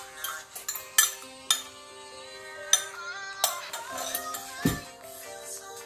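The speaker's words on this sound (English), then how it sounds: "Now I'm going to mix the wet ingredients first" Wet muffin ingredients being mixed in a bowl, sharp clinks and taps of a utensil against the bowl in an irregular rhythm, with a lingering ringing tone, under faint voices.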